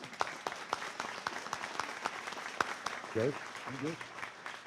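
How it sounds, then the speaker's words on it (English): Scattered applause at an award presentation, with some crisp individual claps, fairly soft and a little distant, while a voice talks briefly toward the end. "So another round of applause"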